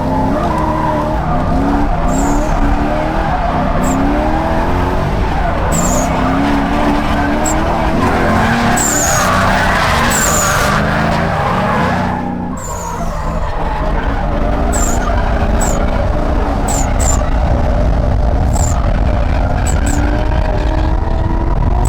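A drift car skids through a tandem drift, heard from the passenger seat: a continuous loud engine roar with repeated sharp tire squeals and chirps, a brief dip midway, no talk.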